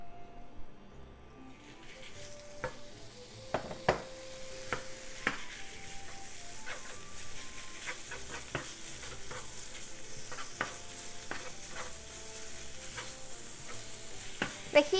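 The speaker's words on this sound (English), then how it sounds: "let's cook pork and onion" Pork and onion sizzle in vegetable oil in a frying pan over medium to medium-high heat, a steady frying hiss punctuated by frequent sharp crackles and occasional stirring scrapes.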